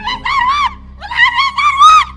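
A woman in labor screams in two long, loud, wavering cries with a short break between them. No speech is heard over them.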